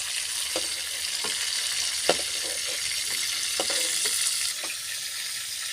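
Prawns fry in hot oil in a home kitchen pan with a constant bright sizzle, broken by several soft stirring knocks and one sharper clack, close and steady with no talking.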